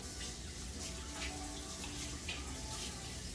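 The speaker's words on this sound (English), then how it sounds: "I'll wash my hands." Tap water runs steadily into a kitchen sink as hands are washed while cooking, a continuous moderate splashing hiss with no talk.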